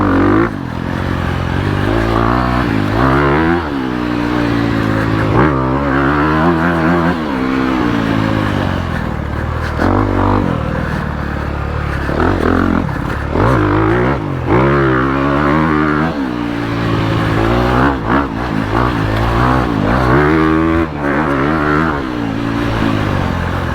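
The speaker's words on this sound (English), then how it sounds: "And the stock exhaust sounds really good too" A 2022 Honda CRF250R motocross bike's stock exhaust roars and revs continuously, the throttle rising and falling through gear changes, loud and close, with no talk.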